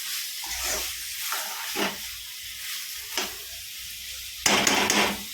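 Mutton liver fry is stirred in a pan with a low sizzle, broken by several spoon scrapes and stirs, and a louder burst of hissing and clatter near the end.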